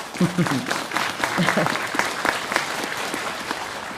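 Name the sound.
audience clapping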